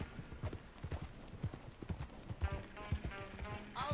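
Horse hooves clip-clop at a steady trotting rhythm in the video game Red Dead Redemption 2, close and even under faint background ambience, with a short whinny-like tone near the end.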